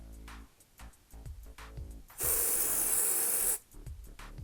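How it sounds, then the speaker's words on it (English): Kose Esprique BB spray foundation hissing from its can onto the back of a makeup sponge in one steady burst of a bit over a second, loud and close, with soft handling noises before and after. "spray it onto the back of my sponge"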